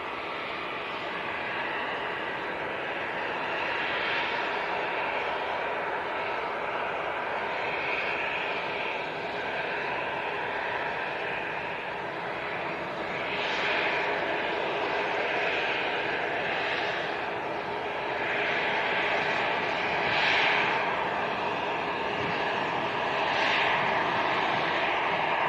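An EasyJet airliner at Leeds Bradford Airport gives a steady, distant jet engine roar that swells slightly over time, with no talk.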